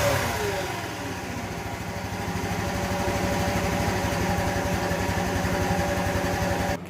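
A 1984 Honda Elite 125 scooter engine running steadily after an auto choke replacement, a close, loud, even putter with a fast regular firing rhythm throughout, cutting off at the very end.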